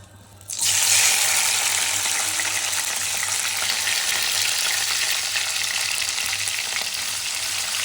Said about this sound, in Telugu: ఇలా ఫ్రై చేస్తాను.